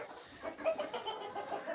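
A brooding hen on a farm gives a short run of soft, low clucks close by, a few murmured notes in under two seconds with no other sounds.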